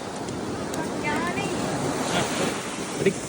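Surf rumbles and washes steadily up a beach, mixed with strong wind buffeting the microphone and a brief faint voice near the end.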